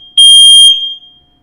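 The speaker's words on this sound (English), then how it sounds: "the fire alarm will be going off in the background sporadically" A building fire alarm sounds during a test, a single loud, piercing electronic beep of about half a second that rings briefly afterward before fading to quiet.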